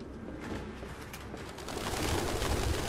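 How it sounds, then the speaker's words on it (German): Pigeons cooing in the video game Detroit: Become Human, a soft, continuous murmur of several birds under steady ambient game noise that grows slightly louder toward the end. "Da sind jede Menge Tauben."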